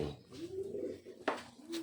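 Pet birds coo softly nearby in a quiet room, giving a couple of low, drawn-out coos with a brief sharp rustle between them.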